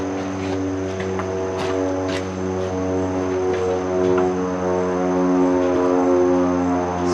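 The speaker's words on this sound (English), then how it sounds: "Spy planes." A propeller airplane passes overhead with a steady, loud droning hum that holds for several seconds, its engine tone rising gently in strength toward the end, a few faint knocks nearby.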